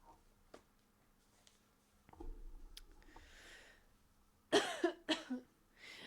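A couple of sharp, close coughs near the end, preceded by quieter rustling and breathing.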